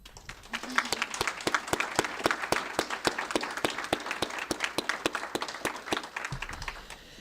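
An audience at a college journal's annual publication debut applauds the award winners, with steady, close clapping from a small crowd that continues for several seconds and fades at the end.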